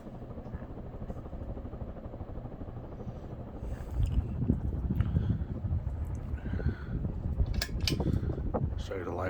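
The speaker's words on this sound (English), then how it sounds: "They make a little bit of noise, but other than that, the fan runs nice and smooth." A Panasonic Knight 52-inch ceiling fan running at around 200 RPM gives a low, steady whir with slight mechanical noise, joined partway through by louder thumps and handling sounds.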